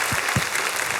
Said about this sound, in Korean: 주 앞에 박수로 영광을 한번 올려주시기를 바랍니다